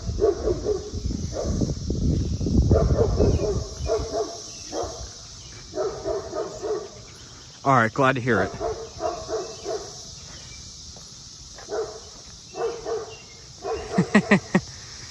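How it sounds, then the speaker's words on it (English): A dog barks in a few short bursts at a distance, amid outdoor background noise and a brief exchange of speech. "Dog barking over there."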